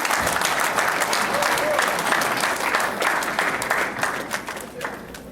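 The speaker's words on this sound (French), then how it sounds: "Applaudissez-vous." Crowd applause at the official inauguration of the Congolese community of Washington, D.C., sustained clapping from many hands in a hall, loud and steady before tapering slightly, with voices faintly mixed in.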